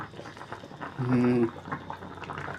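A pot of tilapia tom yum at a rolling boil gives a steady bubbling and gurgling, with a louder surge in the middle, while a person talks over it.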